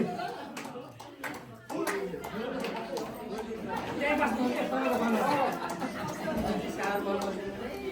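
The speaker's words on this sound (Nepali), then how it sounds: "ल थपडी है" An audience at a Nepalese New Year party in South Cerney, UK breaks into clapping that swells and holds steady, mixed with lively crowd chatter and voices throughout.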